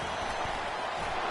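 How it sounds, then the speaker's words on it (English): A dense, steady roar from a packed football stadium crowd at a Tennessee vs Virginia Tech game rumbles on without a break, loud and enveloping. "This crowd bringing the energy and noise early"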